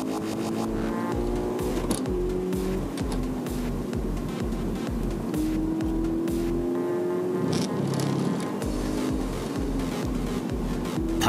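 A Toyota 86 or Subaru BRZ race car laps Okayama International Circuit, its engine droning steadily and shifting pitch through gear changes and corners, heard continuously from onboard or nearby with no talking.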